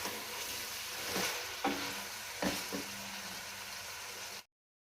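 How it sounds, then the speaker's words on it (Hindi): Meat sizzles in a pan with onion and garlic for kachnar gosht, a steady close frying hiss broken by a few clanks and scrapes of stirring before it cuts off. "इसे मज़ीद 10 मिनट के लिए और इसे फ्राई करेंगे इसमें प्याज में और लहसुन में"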